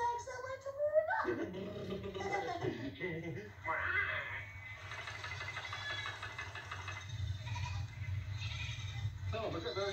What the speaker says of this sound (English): Oh, look at those sheep.